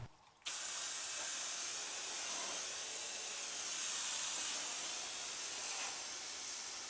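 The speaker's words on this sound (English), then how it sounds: "to get that off I will use some brake cleaner" Brake cleaner sprayed from an aerosol can onto the ways of a lathe during restoration, a loud continuous hiss that starts abruptly and holds steady up close for several seconds.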